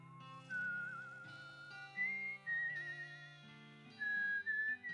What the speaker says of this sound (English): Okay, I can appreciate this whistling.